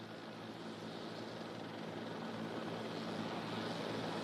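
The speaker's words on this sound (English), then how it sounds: "And here it comes in now, this JetBlue Flight 292 with that front nose gear pointed sideways." JetBlue Flight 292, an airliner coming in to land at LAX with its front nose gear turned sideways, roars steadily as a broad, constant engine rush that stays even in level throughout.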